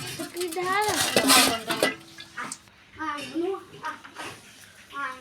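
Rice flour batter stirred in a pot, with faint clinks and scraping of a utensil against the pot under nearly continuous talking.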